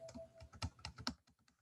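Number keys tapped on a computer keyboard during data entry in MS Access, a quick uneven run of about a dozen close, crisp clicks with no talking.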